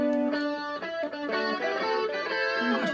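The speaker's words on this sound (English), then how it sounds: "This is 3 electric guitars." Layered electric guitars play short melodic phrases together, clean sustained notes shifting in a steady rhythm, moderately loud with no voices.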